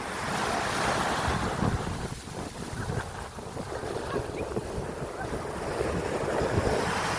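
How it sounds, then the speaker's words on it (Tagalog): Ocean waves wash in continuously at Caba Beach in La Union, Philippines, a loud, broad surf roar with heavy wind buffeting the microphone throughout. "Sarap ng agos ng tubig."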